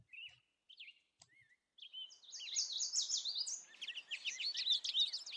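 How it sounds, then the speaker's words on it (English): American goldfinch song in the video game Farming Simulator 17: a few sparse thin whistled notes, then a lively, continuous bright twittering chorus of fast warbles and chirps, clear and fairly loud with no talk. "American goldfinch."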